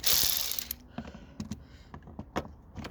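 A ratchet undoes bolts on the front suspension of a Ford Fiesta Mk7 during a spring replacement. It gives short bursts of close clicking mixed with light metallic clanks, fairly quiet, with no talk.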